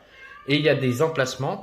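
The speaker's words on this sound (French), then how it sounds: "c'était mon chat qui voulait sortir" A pet cat that wants to go outside meows loudly in a few drawn, wavering cries, overlapping with someone speaking French close by.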